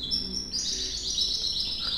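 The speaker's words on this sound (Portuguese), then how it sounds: "esse passarinho que está cantando" A small bird sings nearby in quick, bright, repeated chirps and trills over faint outdoor background noise.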